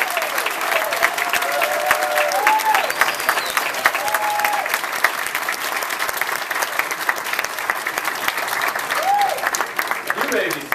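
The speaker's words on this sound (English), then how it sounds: "give everybody here a round of applause for their encouragement and help that put you here" Graduates at a Globe University winter commencement in Madison applaud their friends and family, a dense, steady clapping that fills the hall from start to finish, with a few whistles and cheers rising above it.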